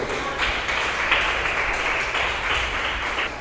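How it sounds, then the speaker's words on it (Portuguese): A church congregation applauds during a Portuguese-language evangelical service, a dense, steady wash of many hands clapping that holds at an even level throughout. "Vamos aplaudir bem forte ao Senhor."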